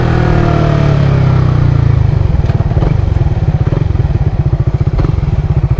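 A motorcycle engine revs up for rev matching, then drops back to a loud, close, rapid pulsing idle-like chug with steady mechanical beats and no talk.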